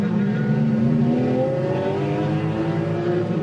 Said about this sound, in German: Mike Rockenfeller hatte die große Ehre, den Porsche von Olaf Mantai über die Ziellinie zu pilotieren